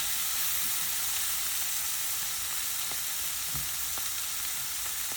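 Dried sprats fry in a pan while being stirred, giving a steady close sizzle and hiss with a few soft scraping knocks of the spoon, no voices.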